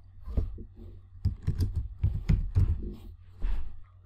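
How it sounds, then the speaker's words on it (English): Computer keyboard typing while entering a name into a spreadsheet cell in Microsoft Excel: a quick run of soft, close key taps in uneven bursts with short pauses between them. "So I'm first going to type in Alice"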